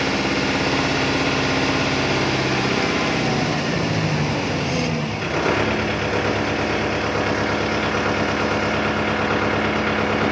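A Kubota MU5501 tractor diesel runs loud and close, and partway through the revs drop from a higher speed to a lower, steadier idle. No one speaks.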